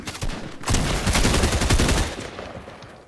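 Rapid bursts of video game gunfire from a shotgun-only match, a dense run of loud repeated shots that fills most of the clip and then tapers off, with no talk over it.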